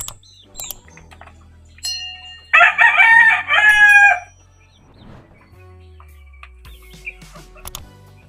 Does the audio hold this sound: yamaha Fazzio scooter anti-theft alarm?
no